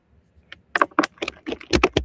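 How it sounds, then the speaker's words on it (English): Someone types on a computer keyboard: a quick, irregular run of close, crisp key clicks that start softly and grow denser and louder toward the end. "Typing something."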